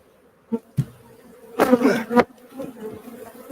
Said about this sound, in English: Oh, a lot of bees on this one.